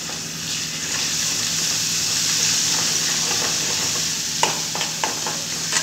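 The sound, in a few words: broad beans frying in hot oil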